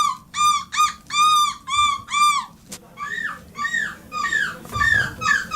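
People at a European seagull-imitation championship mimic gull calls, a run of loud repeated squawking cries followed by a second voice's rising wails, close and alone.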